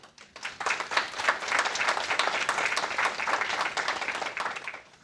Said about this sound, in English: So please, round of applause for each of you.